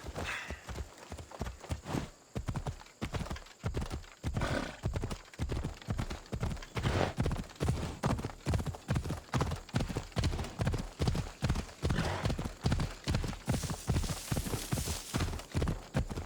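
Horse hooves gallop in Assassin's Creed Odyssey in a steady, fast rhythmic clip-clop that stays close and continuous throughout, with a faint wash of background ambience.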